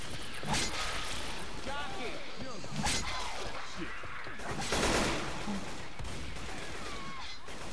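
Gunfire in Left 4 Dead 2, with loud sharp shots and bursts scattered across the stretch amid zombie groans and game noise, and people talking over it.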